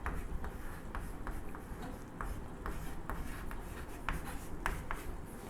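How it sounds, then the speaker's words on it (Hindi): A marker or chalk scratches across a board in steady short strokes and taps at an irregular rhythm, close up over a constant background hiss. "इधर लिख लेता हूँ।"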